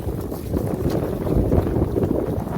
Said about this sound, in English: The wind has settled down a little bit